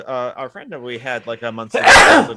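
A single loud, sharp sneeze bursts out right after a stretch of conversational speech, close to the microphone.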